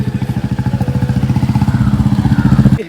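A Bullet motorcycle ridden on the way to Pataleswar temple, its single-cylinder engine thumping in a loud, close, steady rhythm that builds slightly as it runs.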